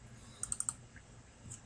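A short burst of four quick keystrokes on a computer keyboard, close and fairly quiet, followed by a faint extra click, with no voices.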